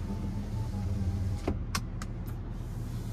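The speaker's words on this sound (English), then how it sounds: "there's that power sliding rear window" Power sliding rear window on a 2024 Chevrolet Silverado 2500HD High Country cab, a short motor whir and a couple of soft clunks as the glass moves, heard close over a steady low cabin hum.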